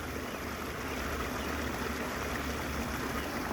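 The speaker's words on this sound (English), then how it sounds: "And the final waterfall." Water from the final tier of a backyard turtle pond waterfall pours steadily, fed by a 5,000-gallon-per-hour pump, making a continuous close rushing splash with no break.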